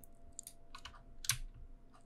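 Quiet keystrokes on a computer keyboard during 3D modelling in Maya: a few scattered taps and clicks, faint and close, with no talk.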